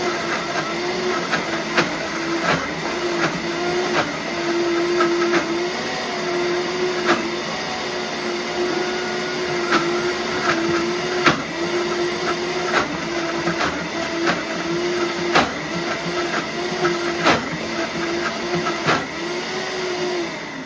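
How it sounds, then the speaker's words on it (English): A blender runs steadily on raw vegan hummus for about twenty seconds, a loud whirring motor with a constant pitch and faint rhythmic ticks as the thick mixture churns, no one speaking. "Be careful with the blender to not blend it too much or too long at once"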